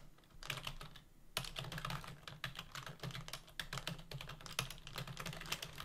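Fast typing on a computer keyboard, close and crisp: rapid bursts of key clicks with brief pauses between runs, continuing steadily at moderate volume with no one speaking.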